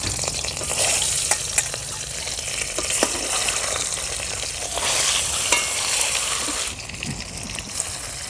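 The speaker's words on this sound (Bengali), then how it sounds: "প্রথমে ডিমগুলো ভেজে নেব।" Duck eggs coated in salt and turmeric fry in mustard oil in a heated kadai, giving a loud, close, continuous sizzle with crackling pops and stirring scrapes and no speech.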